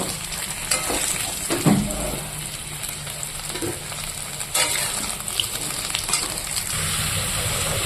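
Potatoes fry in a pan with a steady, hissing sizzle throughout, broken by a few louder crackles and clinks of stirring.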